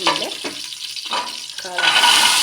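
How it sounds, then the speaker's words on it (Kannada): Mustard seeds and curry leaves sizzle in hot oil in a pan. The frying starts softly and grows into a loud, steady sizzle. Brief murmurs and stirring are heard over it. "ಎಣ್ಣೆ ಕಾದ್ಮೇಲೆ ಸಾಸಿವೆ, ಕರಿಬೇವು, ಹಾಕಿದ್ಮೇಲೆ"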